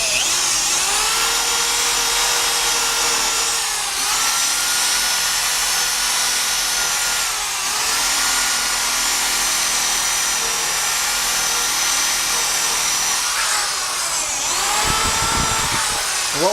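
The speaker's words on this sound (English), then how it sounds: "I have really come to find a lot of good uses for this buffing ball" FLITZ buffing ball spinning on a drill while polishing aluminum motorcycle parts, a steady high whirring hum that dips and rises as pressure changes, close and continuous with brief surges near the end.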